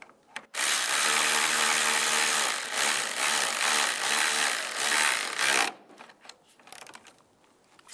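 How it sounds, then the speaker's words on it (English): A power tool drives in a water pump bolt on a 1999-2005 Volkswagen Jetta with a loud, continuous whirring buzz that holds for about five seconds, then stops abruptly, followed by a few quieter clicks. "Now put the bolt back in, line that up. And tighten it down."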